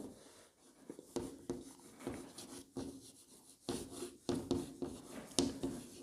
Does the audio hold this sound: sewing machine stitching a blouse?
no